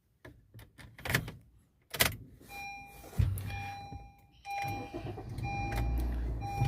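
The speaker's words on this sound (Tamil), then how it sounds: "ஒரு வண்டி ஸ்டார்ட் ஆயிடுச்சு" A vehicle engine starts at a key shop after a few sharp lock and unlock clicks, then settles into a low steady rumble with a faint electronic tone running above it.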